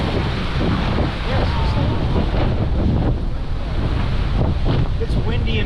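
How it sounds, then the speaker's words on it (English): Strong wind roars steadily across the microphone aboard a J109 sailboat racing in high wind near Hood River, gusts around 30 knots, with water rushing and slapping along the hull in a loud, continuous wash. "It's windy in Hood River as well."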